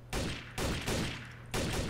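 Gunfire in the game Trouble in Terrorist Town, several dense bursts of rapid shots in quick succession, loud and close with short gaps between them.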